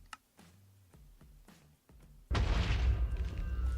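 In modded Minecraft (Infinity Evolved Expert pack), a run of soft regular ticking thumps counts down before a sudden loud explosion bursts out and trails into a rumbling, crackling tail.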